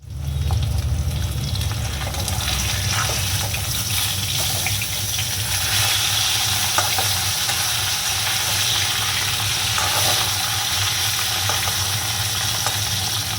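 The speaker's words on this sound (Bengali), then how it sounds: "মাছ ভাজা হচ্ছে" Fish frying in a pan in a home kitchen while rice cooks, a steady loud hiss and sizzle running unbroken throughout with faint clinks, no talk.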